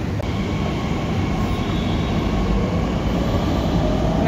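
A metro train pulls into a station in Pune with a continuous, loud, steady rumble of wheels and carriages lasting throughout, and no voices.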